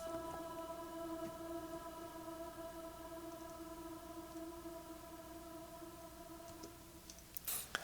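A vocal chant processed with delay and diffusion reverb holds several steady sustained tones that smear into a washy, echoing tail, fairly quiet, with a few clicks near the end.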